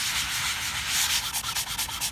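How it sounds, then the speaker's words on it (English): Steady rhythmic sanding strips the polish off a table surface, with close, gritty back-and-forth rubbing strokes in a regular pulse and no talk. "what we want to do is sand off the polish that you have on the surface"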